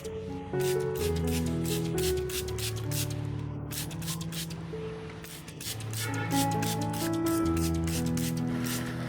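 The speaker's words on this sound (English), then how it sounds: "By using a spray bottle, we're able to create a fine mist that gently coats the leaves" Repeated sharp hissing sprays from a pump spray bottle misting orchid leaves, coming in quick bursts with short pauses, over soft background music.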